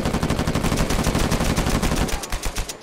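Sustained automatic gunfire laying down suppressive fire in Uncharted 4 multiplayer, a dense, rapid, loud stream of shots that runs the whole time with only brief dips near the end.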